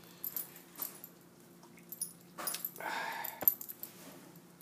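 A dog whimpers softly in short, faint bursts while waiting for food crumbs indoors, with light clinks and jingles scattered among the quiet sounds.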